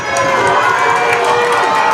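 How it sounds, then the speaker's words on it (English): Home fans at a 2025 WIAA high school football state semifinal, Mondovi against Edgar, roar in a loud, continuous wash of cheering and shouting that holds steady throughout. "Mondovi crowd getting loud."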